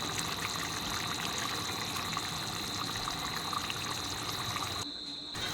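Egg korma gravy with fried eggs boiling in milk gives a steady, continuous bubbling and simmering wash that stays loud and even throughout, easing slightly near the end.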